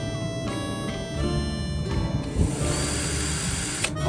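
A power drill drives screws into an old wooden chair under repair, several short whirring bursts of the motor in quick succession, close and moderately loud, with brief pauses between runs.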